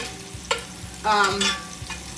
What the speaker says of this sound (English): I still have that garlic and that rosemary in there, just, like, frying up on the side